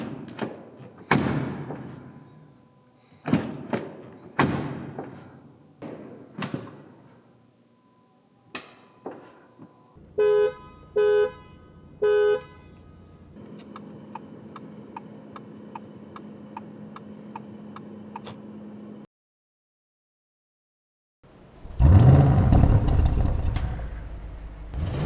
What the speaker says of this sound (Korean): 잠시 RS7이 들려주는 감성 측면의 소리를 들어보겠습니다.